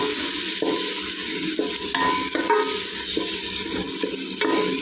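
Ingredients for a Telugu-style biryani fry in oil in a pan, giving a steady close sizzle with stirring scrapes and soft clinks repeating throughout, no voices.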